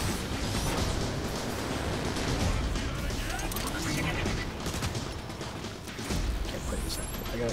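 Sustained gunfire in the video game War for Cybertron, a dense continuous barrage of shots and mechanical clatter at fairly loud level, with a brief dip near the end.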